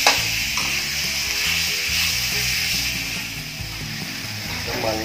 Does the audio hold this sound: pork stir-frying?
yes